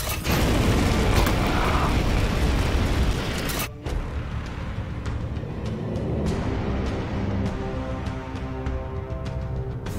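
A fire attack in Warhammer 40,000: Chaos Gate Daemonhunters sets an enemy alight: a loud, roaring, explosive blast for several seconds, then a sudden drop into a lower, steady rumbling burn with faint crackles.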